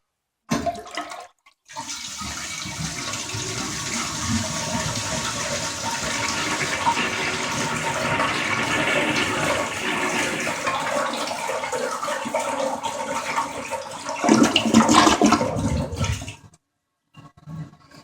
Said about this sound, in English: Here's flush number one.